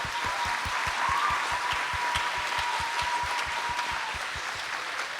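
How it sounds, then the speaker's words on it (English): Audience applause for a grade 5 choir at a school winter music sharing, a full, steady round of clapping from a roomful of people, with some rhythmic beats underneath and a faint tone running through it. "Can we give them another round of applause"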